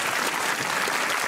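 Studio audience at a Hindi comedy talk show gives steady, dense applause that fills the whole short moment without voices.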